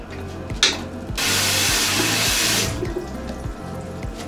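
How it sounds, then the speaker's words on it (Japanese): Tap water pours hard into a hotel sink for a burst of a couple of seconds while someone washes their face, with splashes and small clatters before and after. "じゃあ顔洗います"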